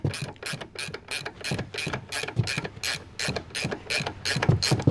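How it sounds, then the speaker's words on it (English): Ratcheting wrench clicks rapidly and rhythmically up close while loosening a suspension bolt on a 2019+ Chevy 1500 pickup during a 4-inch lift install, a steady series of sharp metallic ticks. "go ahead and just get your ratcheting wrench on. It goes a lot quicker that way."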